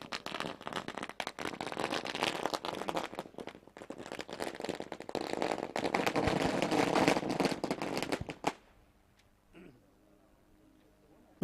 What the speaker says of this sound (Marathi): नक्कीच अगदी फटाक्यांची आतिषबाजी